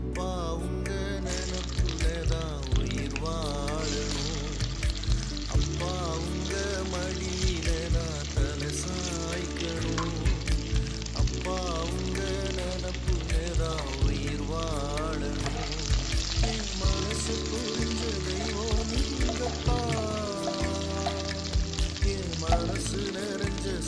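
Baby potatoes frying in coconut oil for a crispy potato fry, a loud continuous close sizzle with bubbling and occasional spatter, steady throughout, with faint background music.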